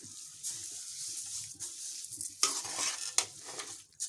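A spoon stirs about a kilogram of sugar through grated carrot halwa with khoya in a pan, giving scraping, clattering strokes and soft sizzling, with a couple of sharper metallic knocks. No talk.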